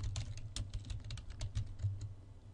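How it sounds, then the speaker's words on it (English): A search term typed on a computer keyboard, a rapid, even stream of light key clicks heard close up over a faint low hum, with no one speaking. "And let's also type in vaccinations."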